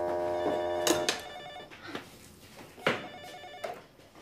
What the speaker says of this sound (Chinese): 电话想半天也不会接啊！